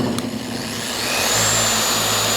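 A Liquid Elements polisher spins up when its trigger is pulled, a loud motor whine that rises in pitch and settles into a steady high hum, close and without talk.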